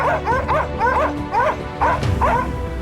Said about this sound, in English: the hunting dogs barked sharply.